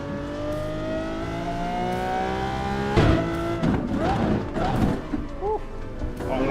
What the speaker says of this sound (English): We're driving a Lamborghini.